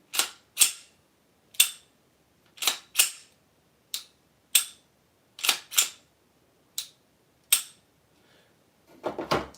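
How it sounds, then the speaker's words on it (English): An off-screen gun is dry fired: about a dozen sharp, crisp trigger clicks at uneven intervals, close and isolated against near silence, with a soft rustle at the end. "Here, I can dry fire off screen."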